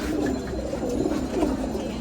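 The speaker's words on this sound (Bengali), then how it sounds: "কবুতরগুলো মাত্রই নামাইছি।" Pigeons in a cage coo continuously at close range, soft low rolling calls overlapping over a light background hiss, with no talking.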